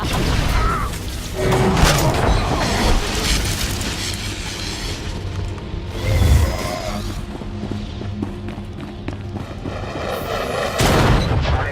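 Blaster gunfire and booming blasts in a Star Wars: The Old Republic trooper battle, a dense, loud barrage of shots and thuds with a louder burst around the middle and near the end, mixed with game music and effects.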